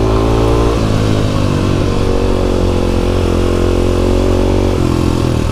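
A Kawasaki KLX dual sport motorcycle engine runs loud and close while riding in the cold, a steady buzzing drone with small shifts in pitch as the throttle changes.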